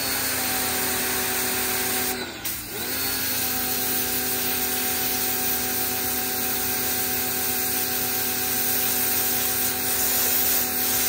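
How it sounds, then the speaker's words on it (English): A power washer blasts a pineapple with a steady, loud hiss of high-pressure spray, broken by one brief dip near the start and then holding constant throughout. "pineapples are indestructible from a power washer"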